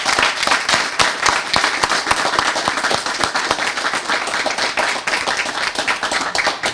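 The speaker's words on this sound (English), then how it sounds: "let's give all our graduates a round of applause" An audience gives loud, sustained applause for graduates at a college graduation ceremony held at a correctional facility, with sharp individual hand claps standing out from the crowd's steady clapping.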